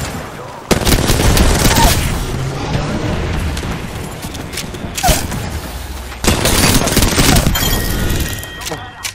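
Dense video-game gunfire from several weapons firing at once, with bursts of rapid shots, booms and impacts filling the clip, loud and close, with a brief lull before another heavy burst.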